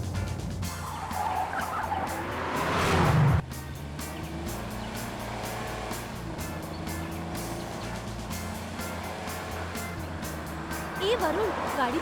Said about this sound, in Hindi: ए वरुण, गाड़ी तो इतनी तेज क्यों चला रहा है?